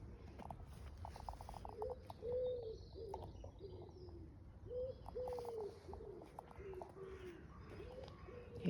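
Pigeons coo repeatedly in soft, low phrases outdoors, with faint chirps from other birds and quiet ambient noise around them.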